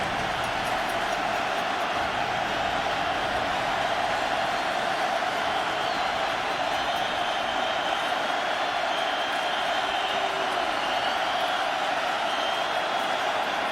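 The crowd at a 2018 Florida State at Miami college football game roars steadily after a turnover, forming a constant, loud wash of distant cheering that holds for the whole stretch.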